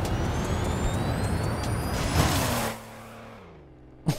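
In a Roblox game, a car engine roars steadily, then a hiss and whoosh as it winds down to a low drone, ending with a sharp mechanical click of a handbrake.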